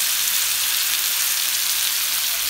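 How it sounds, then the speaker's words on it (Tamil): Steady, bright sizzle of tandoori chicken pieces frying in oil in a pan, a continuous even crackle with no breaks, close and fairly loud, no voices. "ஆயில் கூட ஊற்றி ஃப்ரை பண்ணுங்க. சைடில் எல்லாம் கூட நல்லா ஃப்ரை பண்ணும்"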